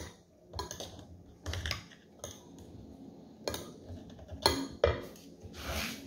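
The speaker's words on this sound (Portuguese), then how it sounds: "Mistura aqui o feijão" A metal utensil clinks and scrapes against a dish as beans are mixed, in short separate bursts of tapping and scraping close by, with no talking.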